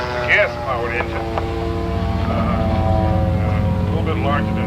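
A gas-powered Laser 200 radio-control model airplane engine drones loudly and steadily at an outdoor fun fly, its pitch wavering as the plane moves, while people talk over it.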